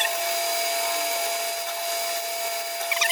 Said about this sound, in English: get rid of the swarf as you're drilling